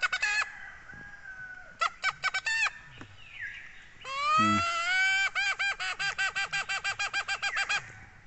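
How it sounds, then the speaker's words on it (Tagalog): Chickens, including wild chickens, cluck in rapid bursts nearby while a rooster crows loudly partway through, with repeated staccato calls continuing to the end. "Ano, nagkatarokan yung mga manok doon oh."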